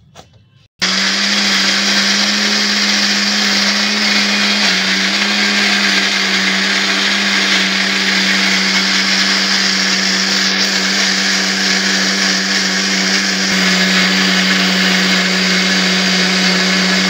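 A mixer grinder whirs loudly and steadily, blending carrot, beetroot, cucumber and tomato into juice, a continuous close motor roar starting abruptly after a brief quiet moment.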